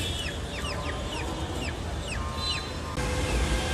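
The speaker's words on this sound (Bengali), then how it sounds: "তো দর্শক দেখেন একটা পাঙ্কি কবুতর দেখেন" Pigeons at a busy pigeon market in Kaptan Bazar, Dhaka, with repeated near, bright calls and chatter from several birds over a steady crowd murmur.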